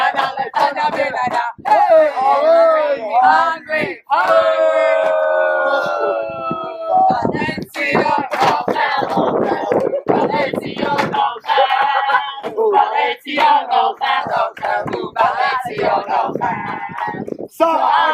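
A crowd raises loud, exotic group cheering and chanting, with wailing, howl-like voices and rhythmic shouts that rise and fall continuously and close at hand, nearly filling the whole stretch.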